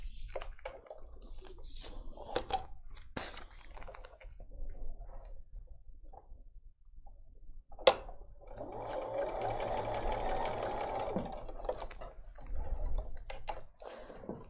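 A sewing machine stitches quilt pieces on a longer stitch setting, running in a sustained close whirring burst after scattered clicks and handling noises, with little talk.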